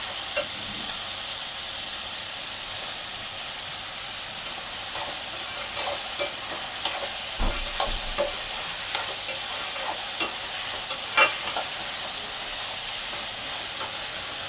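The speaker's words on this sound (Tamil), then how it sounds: "இப்போ வெங்காயம் நல்லா கலந்து விட்டுக்கலாம்" Onions sautéing in hot oil in a pan for prawn gravy as they are stirred, giving a steady close sizzle with light scrapes and knocks of the spoon scattered through it, and no voices.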